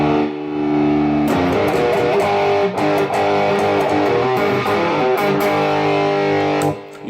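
Heavily distorted electric guitar through an Electro-Harmonix XR distortion into a JCM800 2203 amp plays chunky chords and riffs with sharp palm-muted stops, loud and saturated, ending in a sudden cutoff.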